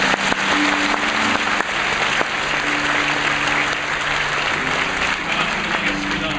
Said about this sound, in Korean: 다시 한번 감사의 박수 드립니다.